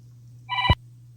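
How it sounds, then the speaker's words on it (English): A brief telephone ring, a short bright electronic chirp over a constant low hum, heard once and close with no talking. "I got a phone call."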